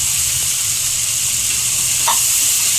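Vegetables frying with ginger garlic paste for khichdi, giving a loud, continuous hissing sizzle close up, with one brief utensil scrape near the end.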